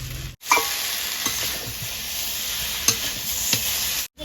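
Long pepper stalks tipped into a pot of wild elephant foot yam and stirred, giving a steady close sizzle with scraping stir strokes and a few sharp knocks, no voices.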